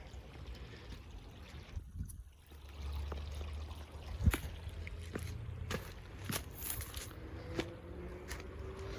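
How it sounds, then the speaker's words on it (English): Faint, steady trickling and splashing water from a small creek waterfall, with occasional small splashes and knocks nearby. "Nice little mini waterfall."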